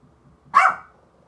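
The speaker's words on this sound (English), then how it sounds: "She's a barky Pomeranian." A Pomeranian dog gives a single sharp, close bark that rises quickly and fades within a quarter second, with near silence on either side.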